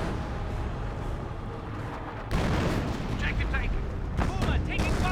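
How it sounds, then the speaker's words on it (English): An artillery barrage in a Company of Heroes match strikes the sector, heavy rumbling booms swelling louder midway with sharp blasts near the end, under a caster talking throughout. "Red's artillery summoned onto the sector there, forced back the Commandos quite nicely."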